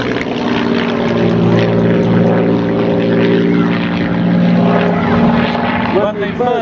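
A PS915 propeller aircraft engine drones loud and steady at the Welshpool Air Show, its buzzing tone slightly shifting pitch, with a voice talking over it.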